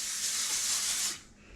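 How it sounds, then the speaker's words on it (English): Butter-flavored cooking spray hisses onto a foil-lined baking pan in one steady, close burst of about a second, then cuts off into quiet. "So we're just going to spray this real good."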